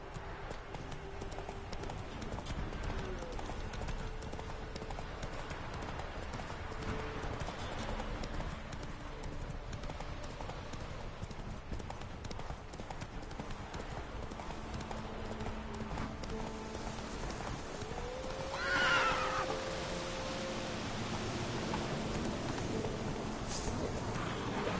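Roach the horse gallops in The Witcher 3 video game, with rhythmic hoofbeats pounding steadily for the whole stretch at a low, even level over quiet in-game ambience.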